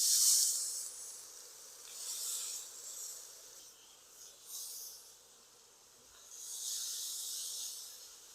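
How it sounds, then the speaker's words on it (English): Beef tenderloin seasoned with salt and pepper searing in a hot pan, a soft, steady sizzle and hiss that swells and fades in waves, quiet and close with no talking. "Now we're just going to quickly sear it on all sides."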